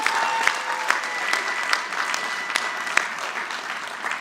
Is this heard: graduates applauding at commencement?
yes